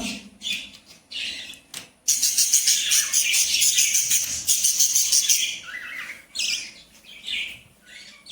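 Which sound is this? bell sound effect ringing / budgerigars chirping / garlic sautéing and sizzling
budgerigars chirping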